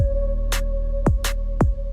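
A programmed drum and bass beat with kicks shifted off the grid: booming kicks and sharp snare hits trade places in a quick, syncopated pattern over a steady sustained tone, loud and close.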